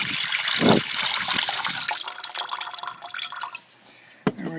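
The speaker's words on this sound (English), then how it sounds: "We're going to take that tea and pour it in here." Dandelion tea pours into a jar in a steady, splashing gush that trickles off into a few drips, ending with a faint clink, all close and with no talking.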